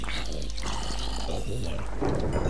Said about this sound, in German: Oh mein Gott, Blitze!